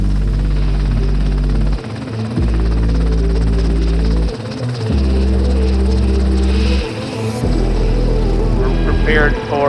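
A Black Hawk helicopter fitted with the SkyOS autonomy system on its first flight gives a loud, steady rotor and engine drone, while voices talk over the radio throughout.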